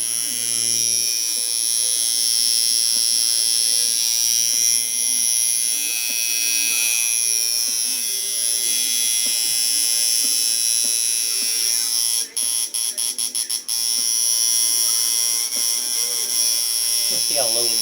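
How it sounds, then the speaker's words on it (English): A gray shading tattoo machine runs continuously, a close, loud electric buzz with a steady high whine. Toward the end the buzz stutters briefly as it is switched or adjusted. "Yeah, this is a beautiful gray machine. This thing would actually lay in gray all day long."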